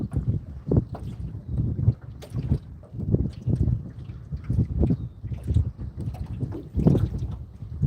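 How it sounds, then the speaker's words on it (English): Strong wind blows over a lake during a fishing trip, buffeting close up in a rough, gusting roar. The rumbling surges rise and fall continuously, with no talking. "The wind feels nice."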